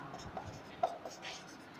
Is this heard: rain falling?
no